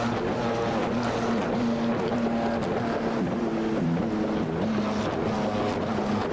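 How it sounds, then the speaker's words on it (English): GT3 race car engine in iRacing at Road America, a steady droning engine note held at a fairly even pitch with small rises and dips in revs, loud and continuous throughout. "He's revving the engine, isn't he?"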